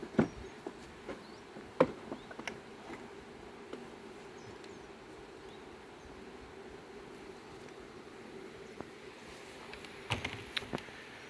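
Honeybees hum around hives at an apiary in a steady, faint, far-off drone, broken by a few scattered clicks and taps and with no voices.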